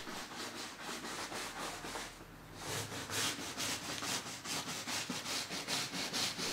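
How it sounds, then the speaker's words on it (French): Steady back-and-forth rubbing of wood sawdust over a leaded stained glass window, clearing excess putty in a restoration workshop. The strokes are fairly quiet and rhythmic, pause briefly midway, then resume slightly stronger. "Le vitrail est ensuite nettoyé à l'aide de sciure de bois afin d'enlever le surplus de mastic"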